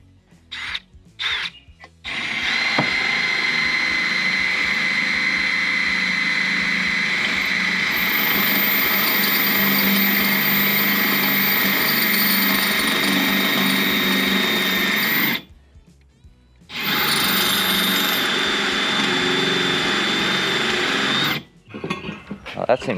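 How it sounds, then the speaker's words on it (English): A power drill drives a thread-forming bit into a hole, giving a steady, loud whine that holds for long stretches, stops briefly, then resumes for a second run before cutting off. "Alright, let's try this drill thread thing."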